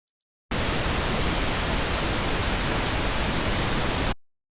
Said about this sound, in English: which is where pink noise illustrates the point quite well.